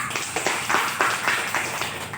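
An audience clapping for a speaker at a stage event, with a loose run of fairly soft, distinct claps at a modest distance and no voices over them.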